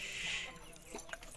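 A Thai hen clucks softly at close range, giving a short run of faint, low murmuring clucks over quiet background noise.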